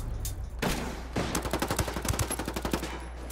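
Rapid bursts of automatic gunfire in a tower firefight in a multiplayer shooter game, loud and close, with a brief opening shot followed by a long, evenly spaced rattling volley and no talk over it.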